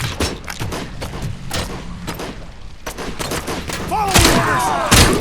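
Rapid bursts of gunfire in RoboCop: Rogue City combat, sharp repeated shots clustered in volleys with heavier blasts near the end, loud and close, with brief shouted voices mixed in.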